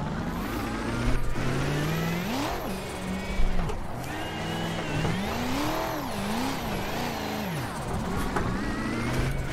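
A BMW E92 race car in a racing video game revs up and down through gear changes, its pitch climbing and dropping in repeated loud sweeps as it powers through corners.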